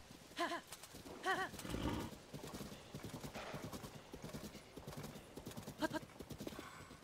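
A horse's hooves clip-clop in Zelda: Tears of the Kingdom, a steady brisk run of knocking steps with a few whinny-like calls on top, throughout the clip at moderate level.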